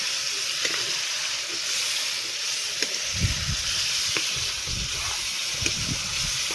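Pork frying in a pan with ginger-garlic paste gives off a dense, steady sizzle and hiss, broken by occasional scraping clicks of stirring, close and continuous with no talking.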